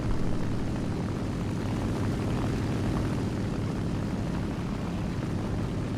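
A biplane in a WWII flight combat game closes in with a continuous, loud propeller-engine drone that holds steady and alone for the whole stretch.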